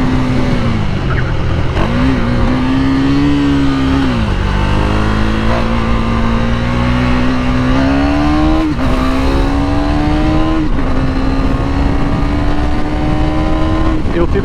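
KTM 390 Duke single-cylinder motorcycle accelerating hard, the engine note climbing through several gears with brief dips at each shift, loud and close throughout the ride with no talk over it.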